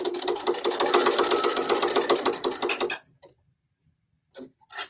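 A sewing machine stitches a seam in a rapid, steady mechanical chatter for about three seconds, close and fairly loud, then stops, followed by a few brief bursts of stitching.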